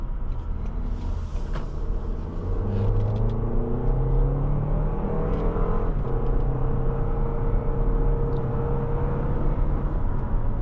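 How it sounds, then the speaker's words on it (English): A 2024 Toyota Grand Highlander Platinum SUV with a 265-horsepower four-cylinder engine accelerates, its steady engine hum and road rumble building and holding loud and close from inside the cabin, with rising engine tones. "That is pretty good acceleration."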